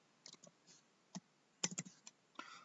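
A computer keyboard types out the word "diode" while a DC motor drive rectifier circuit is drawn: a short, uneven run of quiet, crisp key clicks with small gaps between presses and no voices.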